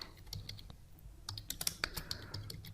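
Keys on a computer keyboard are tapped in quick irregular bursts of light clicks, close but faint, with no voice over them.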